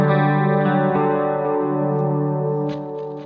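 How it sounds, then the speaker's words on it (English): An electric guitar played with a clean tone rings out a sustained chord that slowly fades, with a few lighter plucks near the end, heard alone and fairly close. "Let's try it with clean sound."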